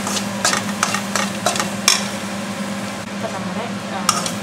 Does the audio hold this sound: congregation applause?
no